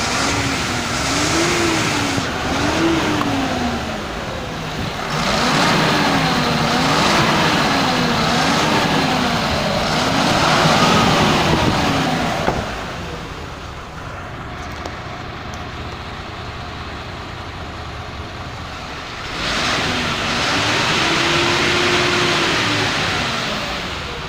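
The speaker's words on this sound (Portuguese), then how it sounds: "Vou dar uma acelerada agora ali por dentro." A Volkswagen 17-260 truck's six-cylinder diesel engine revs up repeatedly, rising and falling in several wavering bursts, then idles lower for a stretch before one more rev near the end; loud and close, with no talk.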